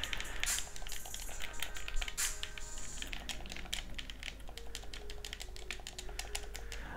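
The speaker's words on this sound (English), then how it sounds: "Going to do the joystick test." Joystick buttons pressed repeatedly, captured by a gaming headset's unidirectional microphone, a fast irregular stream of sharp plastic clicks and taps running continuously at moderate volume.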